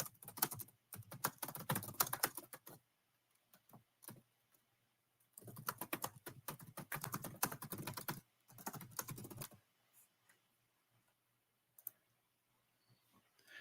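Rapid bursts of close computer keyboard typing, with clattering keystrokes in three runs separated by short quiet pauses and a few isolated clicks.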